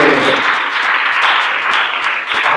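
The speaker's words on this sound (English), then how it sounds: "Let's clap our hands." A church congregation claps together at a Christian ministry service, a loud, dense and steady wash of hand claps that keeps going for the whole stretch with no talk over it.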